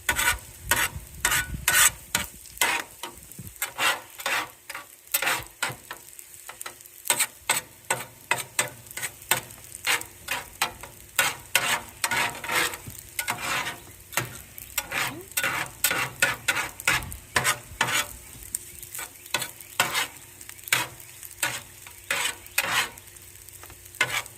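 Egg stirred through chicken fried rice on a hot hibachi-style griddle, with steady frying sizzle and rapid, irregular scraping and clacking of a spatula throughout, close and fairly loud.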